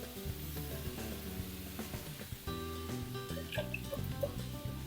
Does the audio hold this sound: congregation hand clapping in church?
no